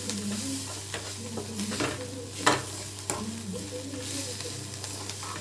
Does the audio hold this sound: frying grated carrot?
yes